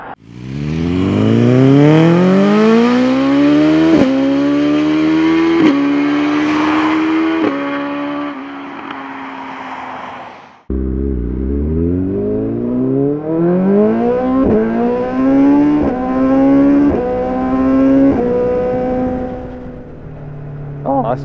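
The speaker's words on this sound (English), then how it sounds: "I can clearly hear the exhaust" A BMW S1000XR motorcycle fitted with Black Widow decat exhaust headers roars through two long runs up the gears, its loud exhaust note climbing and dropping at each shift, with a brief break before the second pull.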